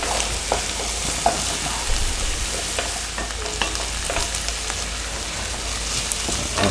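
Vegetables sautéing in a pan for chicken soup, a bright continuous sizzle with scattered pops and crackles and occasional stirring scrapes, close and steady without any voices.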